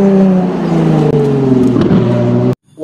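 A toy racing car's engine sound drones loudly and steadily with a rising, revving pitch, then cuts off abruptly before a brief whirring resumes.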